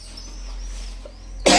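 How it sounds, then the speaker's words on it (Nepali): A single sharp cough bursts out near and loud at the end, after a stretch of quiet indoor room tone. "खोकी पो लाग्यो"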